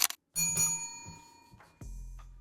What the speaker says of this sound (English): You know what that bell means.